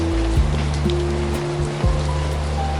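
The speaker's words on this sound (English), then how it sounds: "a tender brushing sound, rain on leaves, rain on distant roofs, rain touching the earth and disappearing into it" Rain patters steadily on leaves and roofs as a soft, continuous hiss under a low sustained musical drone, with no talking.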